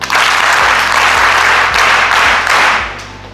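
Classroom of government school students applauding together, a loud dense burst of clapping that holds steady for about three seconds and then fades out, with no talk over it.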